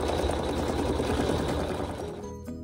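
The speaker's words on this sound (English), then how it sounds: "it's going to do some more decorative stitching" Embroidery machine running decorative stitching on a quilt block, a steady dense mechanical whir with rapid needle rhythm, close and continuous before easing off at the very end.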